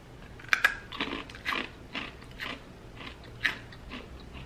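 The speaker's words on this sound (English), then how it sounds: "Can you hear how crunchy it is? Super crunchy." Dried cheese crisps, a hard chip-like snack, crunched in a series of close, crisp bites with irregular pauses between them, no talking.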